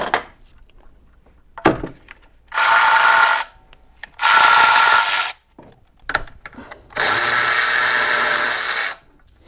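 A power tool whirs in three sustained bursts of a few seconds each while backing the rear studs out of a BMW E46 cam area, separated by small metallic clicks and handling noises, close and loud.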